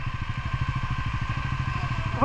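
A motorcycle engine running steadily at close range during a monsoon-rain ride, with a regular pulsing throb throughout and a brief clatter at the very end.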